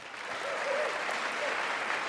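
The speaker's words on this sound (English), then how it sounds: "They're just going to clap for everything." Steady applause from a congressional chamber audience during a presidential address, a continuous even wash of clapping at moderate distance with no speech over it.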